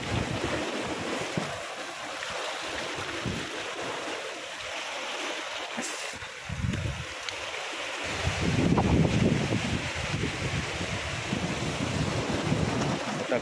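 Sea waves surge and break against a rocky shore, a loud continuous roar with heavier crashing in the second half, mixed with gusty wind buffeting the microphone.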